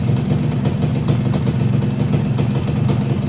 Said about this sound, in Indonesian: Kita nyalain mesin